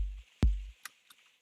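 Two short, deep synthesized sub kick drum booms land back to back with a soft attack, followed by a couple of faint ticks, quiet overall.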